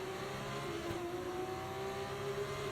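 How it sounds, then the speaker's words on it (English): An F2 race car engine in F1 24 holds high revs at the race start, a constant loud whining drone with no break. "we're building up the revs, getting ready for the start"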